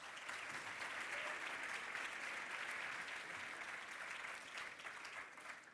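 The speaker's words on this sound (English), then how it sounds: "Would you please give those students a round of applause?" Audience applause for students at a school awards ceremony, a steady, dense wash of many hands clapping that carries on throughout, fairly distant and even in level.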